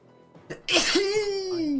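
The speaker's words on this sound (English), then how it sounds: "That was a fat sneeze." A loud, close sneeze bursts out after a short sharp inhale, followed by a drawn-out voiced groan trailing off.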